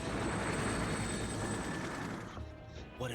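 Helicopters in the video game Metal Gear Solid 2, a dense, steady rotor-and-engine roar that fills the clip and eases slightly near the end, with no talk over it.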